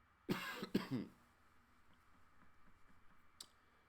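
Two quick, harsh coughs close to the mic, followed by quiet room noise and a faint click.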